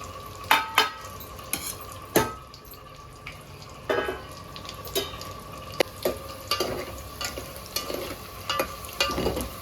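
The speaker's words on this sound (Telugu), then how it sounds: "చేపలు వేస్తున్నా" Bommidala fish sizzle in hot oil for a tomato and onion curry, with a steady close crackle broken by repeated scraping and clinking of stirring in the pan.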